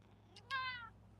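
A cat meows right into a microphone: one short, close, rising-then-falling meow in an otherwise quiet room.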